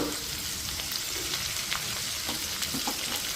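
Ivy gourd pieces frying in a pan, giving off a bright, crackling sizzle with faint stirring scrapes, close and steady with no speech.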